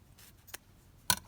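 A few quick scissor snips, close and crisp, trimming lace or paper for envelope pockets, separated by short pauses with nobody speaking.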